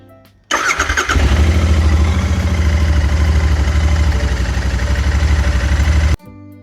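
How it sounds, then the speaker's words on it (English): A Royal Enfield Interceptor 650 with stock exhaust cranks and catches, then settles into a loud, close, steady idle with a throaty rhythmic pulse before cutting off abruptly. "Now let's have a listen to that stock exhaust."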